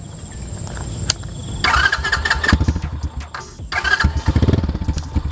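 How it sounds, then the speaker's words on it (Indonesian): A Symoto mini trail motorcycle in the 50cc to 150cc range cranks on its electric starter, catches and fires into a rough, revving idle with repeated throttle blips, loud and close. "Saya coba starter dulu yang ini ya."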